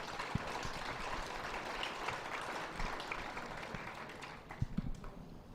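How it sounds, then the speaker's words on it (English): Spectators at a junior fair dairy show at the 2023 Dodge County Fair applaud the young exhibitors, a faint, diffuse patter of clapping in a large, echoing show arena, with a few louder thumps near the end. "I just want everyone to give these kids a big round of applause."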